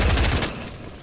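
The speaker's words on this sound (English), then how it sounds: "This is what I call explosion." A single burst of a video game explosion, a sharp rumbling blast with crackling debris that fades out within half a second.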